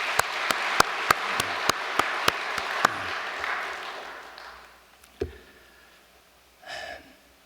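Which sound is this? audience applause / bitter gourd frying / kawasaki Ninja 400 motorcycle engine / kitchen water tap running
audience applause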